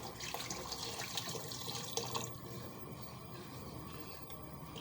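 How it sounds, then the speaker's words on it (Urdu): Water runs steadily into a cooking pot for rice being prepared for Chinese-style rice, a continuous close splashing pour that eases slightly toward the end, with no talking. "اور پانی اس میں اب ایڈ کریں گے 1 کپ،"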